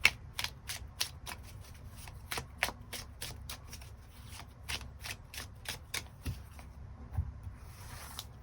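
Tarot cards shuffled by hand in quick, crisp riffling bursts, close and clear, steady for several seconds with no talking.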